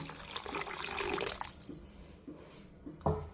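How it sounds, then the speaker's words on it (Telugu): Tamarind juice pours into a simmering pumpkin stew with vegetable pieces, a splashy liquid rush for about a second and a half that fades into quieter bubbling and a final soft knock. "సో చింతపండు పులుసు అయితే పోస్తున్నాను"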